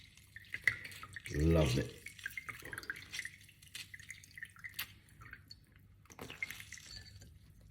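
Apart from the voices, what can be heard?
lemon juice being squeezed into a drink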